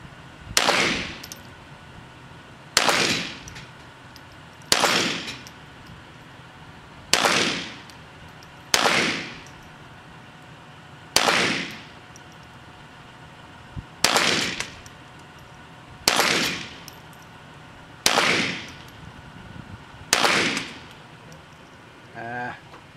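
Smith & Wesson Victory pistol firing at a target 20 yards away: nine sharp, loud shots spaced a few seconds apart, each with a short echoing tail, over a quiet outdoor background.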